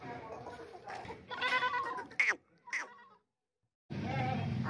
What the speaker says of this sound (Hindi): माशाल्लाह बहुत ही प्यारी खूबसूरत ऊंची लंबी बकरी चेक करें, बच्चे वाली बकरी